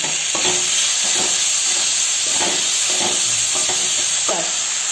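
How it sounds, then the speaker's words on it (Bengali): Tomatoes and turmeric fry in a pan for pabda fish curry, a loud steady sizzle broken by repeated scraping strokes of a spatula stirring the mixture, close up with no talking. "এবার আমার মশলাও ভাজা হবে, টমেটো সিদ্ধ হয়ে যাবে।"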